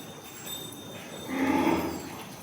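A cow moos once at a cow shelter at a temple in Kateel, a fairly faint, drawn-out low call about a second long over quiet background noise.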